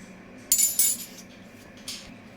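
A knife scrapes the seeds out of a hollowed pointed gourd (potol) in short, scratchy strokes: a quick cluster of scrapes, a pause, then one more, quiet and close with no speech.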